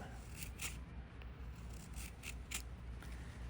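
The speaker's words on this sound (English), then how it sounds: "I just wanna show you with the fat wood. All right, I'm just cutting little slices up." A very sharp 14C28N steel knife shaves thin slices from a stick of fatwood, a string of short, crisp scraping strokes in an irregular rhythm, close up and quiet, with no voices.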